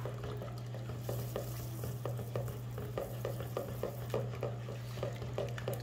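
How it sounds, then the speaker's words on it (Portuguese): Corn flakes flour being stirred into melted margarine, milk and powdered milk in a pan: rhythmic spoon scraping and tapping against the pot at a steady pace over a low constant hum. "A gente vai acrescentando aos poucos o flocão de milho. Vai mexendo sem parar"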